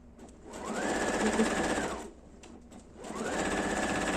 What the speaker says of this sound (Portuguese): Costura aqui e depois você coloca o forro.